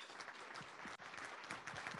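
A steady, faint wash of applause from a crowd at a ports membership luncheon, continuous clapping heard from a distance with no talk over it.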